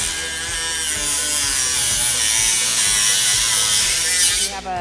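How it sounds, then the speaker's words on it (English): Dremel rotary tool with a cutting disc, running at high speed throughout, a steady loud whine with a constant buzzing drone, close up and alone, cutting off sharply at the end. "We turn the Dremel tool on and lightly apply pressure with the cutting disc."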